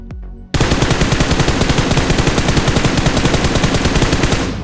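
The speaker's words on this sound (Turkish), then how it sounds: "Bak mermiler ne kadar güzel bir şekilde gidiyor." A sustained burst of rapid automatic rifle fire sprays nonstop for about four seconds, loud and evenly spaced shots with no pauses, from a scoped weapon in a mobile shooter video game.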